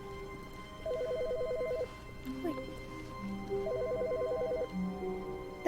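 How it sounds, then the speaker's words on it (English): A telephone rings in the video game The Stanley Parable, two bursts of rapid electronic trilling a few seconds apart over a quiet game backdrop, with a short spoken word early on. "The phone's ringing."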